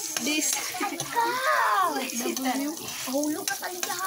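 Food sautéing in a pan for a home-cooked Filipino dish, with soft sizzling and stirring that runs under a close voice talking throughout.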